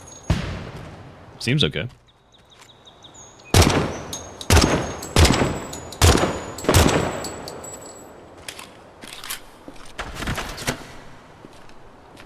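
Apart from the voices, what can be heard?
5.56 and 30-06 rifle gunfire in a video game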